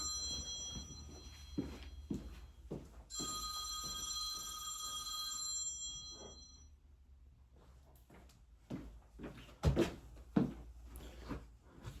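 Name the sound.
work phone ringing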